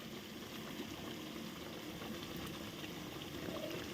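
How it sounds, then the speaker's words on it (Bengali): Spiced curry gravy made with yogurt and water boils in a pan, a faint, even bubbling hiss that holds steady throughout with no voices. "ঝোলটা ফুটে গেছে"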